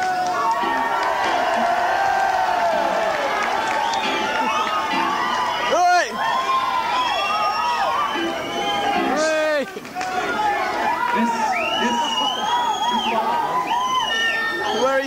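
A concert crowd at the Electric Ballroom in London cheers, whoops and shouts steadily, a busy wash of many voices at close range and fairly loud.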